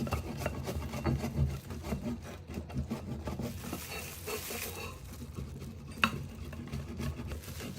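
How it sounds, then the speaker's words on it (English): Parmigiano Reggiano cheese rasped against a grater in steady back-and-forth strokes, close and fairly loud, with a sharp knock near the end and no talking. "to grate this Parmigiano Reggiano"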